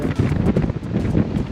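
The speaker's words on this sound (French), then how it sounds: "il manquait plus que la tempête de vent" Strong gusting wind buffets the microphone in a continuous low roar, close and loud, during a stormy solar-bicycle ride through Alsace.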